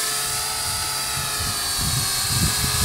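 A JJRC H47 folding-arm toy drone's small motors whine steadily with a dense, high buzz as it flies forward, the pitch and loudness swelling slightly as throttle is added, close and continuous without any talking.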